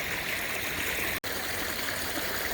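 A creek flows steadily with a continuous broadband rush of water, close and fairly loud, broken only by a brief dropout partway through.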